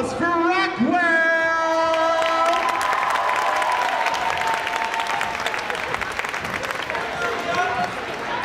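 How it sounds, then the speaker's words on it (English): A large crowd at a children's dance competition applauds steadily and loudly, with cheers rising over the clapping; a sustained musical chord rings out beneath at the start. "ladies and gentlemen, we ask that you please give them a warming round of applause for Rockwell!"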